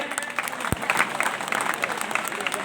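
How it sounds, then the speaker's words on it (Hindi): Audience applause at a school alumni gathering and honouring ceremony at an inter college, steady clapping from a crowd throughout, with faint voices underneath. "आप लोग जोरदार ताली बजाइए।"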